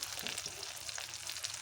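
Brinjal slices for a Spanish omelette fry in a pan, with a faint, steady crackling sizzle throughout and no pauses.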